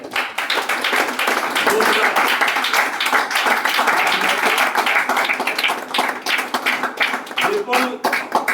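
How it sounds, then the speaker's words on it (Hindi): Loud, vigorous clapping from an audience at a Vestige business meeting, a thick sustained burst that eases slightly toward the end, with voices mixed in. "एक बार जोरदार तालियां हो जाए"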